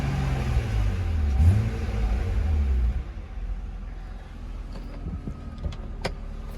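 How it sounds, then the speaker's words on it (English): A BMW Z3 with a 2.8L engine revs near the microphone, a low throaty surge swelling in the first three seconds before settling back to a steadier idle rumble, with a few faint clicks at the end. "I'm gonna rev it so you can hear it."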